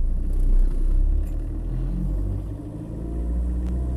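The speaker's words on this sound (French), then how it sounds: "Si je vais bouger ma voiture, vous allez voir si moi je bouge ma voiture." A car's low engine rumble swells and eases as the car is moved, steady and fairly close, with no voices.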